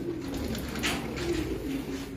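Breeding pigeons coo steadily and close by, a soft continuous throaty murmur with no talking over it.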